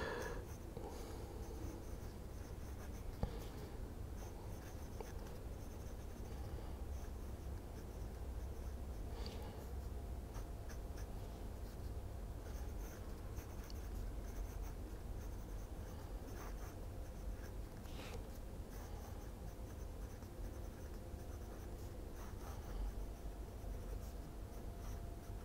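A Pilot Bamboo fountain pen, about 13 centimetres long, writes on a Herlitz paper pad with a soft, continuous scratching of nib on paper. It runs steadily throughout, close and quiet, with no talking.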